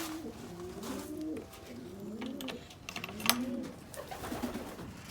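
Racing pigeons in a breeding loft cooing in soft, repeated rolling calls, close and fairly quiet against a low background hiss. No one speaks.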